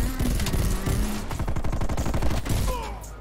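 Rapid bursts from a dual-wielded Diamatti pistol in Call of Duty crackle loud and close, many quick shots chained into fast rattling strings. Other game sounds sit underneath, and no one speaks.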